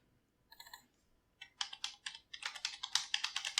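Fingers type a layer name on a computer keyboard, with a short burst of keystrokes, a pause, then a quick, close, rapid run of crisp clicking keys.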